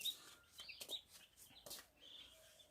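Chicks in a poultry farm brooder holding about 1080 birds give quiet, high peeping chirps and soft clucks, scattered and irregular, slightly distant, with no talking.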